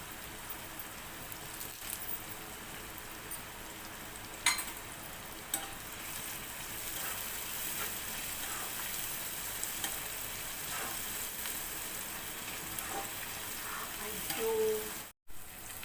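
Curry leaves and green chillies fry in hot oil for an Indian egg fry, giving a steady, close sizzle throughout with a few sharper pops and crackles, and no talking over it.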